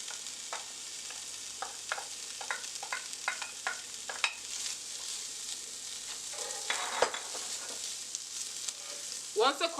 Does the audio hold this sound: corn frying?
yes